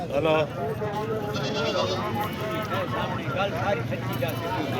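Goats bleat repeatedly over a busy crowd of voices at the Talagang goat market in Pakistan, with nearby talking and background market chatter throughout.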